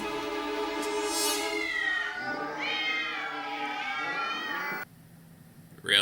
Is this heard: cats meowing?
yes